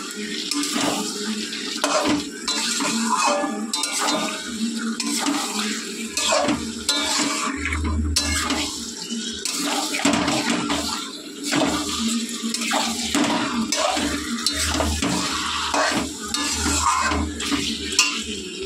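Drained chicken goes into a pan of spiced masala and fries with steady sizzling, while a spoon stirs and scrapes against the pan in repeated strokes.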